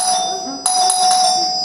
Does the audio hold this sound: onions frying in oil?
no